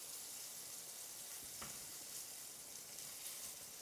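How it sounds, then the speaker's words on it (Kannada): Prawns shallow frying in oil, a steady soft sizzle with faint stirring, quiet and continuous with no voices. "ಇದು ಡೀಪ್ ಫ್ರೈ ಅಲ್ಲ, ಶಾಲೋ ಫ್ರೈ"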